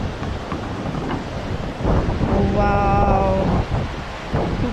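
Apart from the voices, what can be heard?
wind blowing at hillside temple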